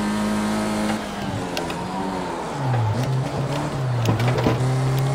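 A racing car engine revs hard in Project Cars 2, its loud, close drone climbing and dropping through shifts and braking into corners, with brief tire noise in places.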